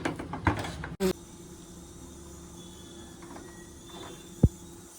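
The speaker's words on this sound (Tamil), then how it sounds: "இந்த குக்கர் போட்டு மூடிடலாம்." A metallic clatter and clunk near the start as a pressure cooker lid is set on and locked, followed by low background hum and one sharp tap later.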